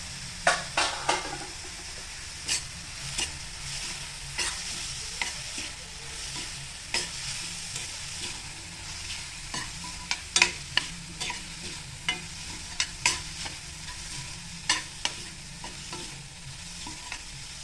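Onion with turmeric sautés in a pan under a steady low sizzle, punctuated by frequent sharp clicks and scrapes of a spatula against metal at an irregular pace.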